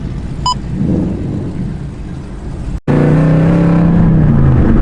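A Whipple-supercharged manual car making 825 wheel horsepower rumbles at idle, then after a brief cut its engine drone rises loud and steady, with no talking.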